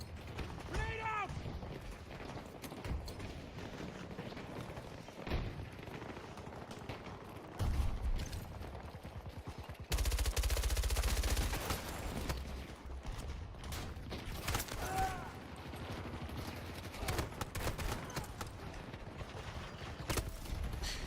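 Battlefield video game combat, with a loud grenade blast about halfway through amid scattered gunfire and mechanical clatter. Dense game noise runs throughout with voices over it.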